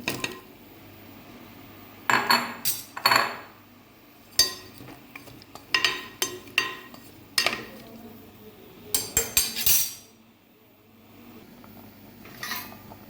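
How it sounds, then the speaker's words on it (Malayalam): Cut pieces of elephant foot yam dropped into a cooking pot, a series of separate knocks and clatters against the metal spaced irregularly, with quiet gaps between them. "ഇനി മുറിച്ച ചേന കഷ്ണം മെല്ലെ ഇട്ട് കൊടുക്കുക"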